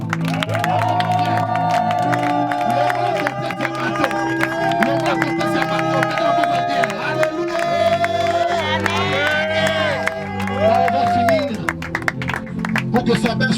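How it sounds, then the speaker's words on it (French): Wedding congregation acclaiming the Lord with sustained loud cheering, whoops and clapping, voices shouting and singing out over a dense crowd roar. "Vous acclamez le Seigneur."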